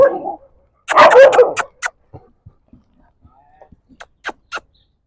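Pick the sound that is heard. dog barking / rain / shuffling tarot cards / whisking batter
dog barking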